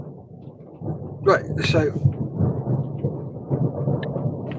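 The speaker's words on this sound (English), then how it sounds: "Oh, that was a nice rolling thunder." Rolling thunder rumbles low and steady through a storm, swelling over several seconds with a sharper crack early on, while a person speaks briefly over it nearby.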